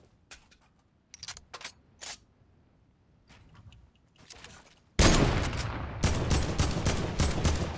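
Video game gunfire: a few scattered shots at first, then a sudden loud burst of rapid, continuous automatic fire.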